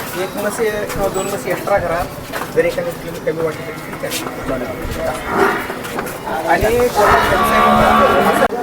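Buffaloes low and moo amid a busy livestock market, with people talking nearby and a crowd murmuring in the background.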